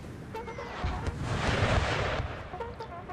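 Artillery fires in Napoleon Total War: a loud, rumbling burst of cannon fire swells and holds for over a second before fading, with smaller distant pops around it.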